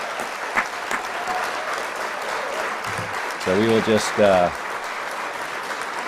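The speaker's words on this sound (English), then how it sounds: "One more time with applause." An audience at a live variety show bursts into applause, a dense wash of clapping heard behind a host's amplified voice, with a brief musical sting partway through.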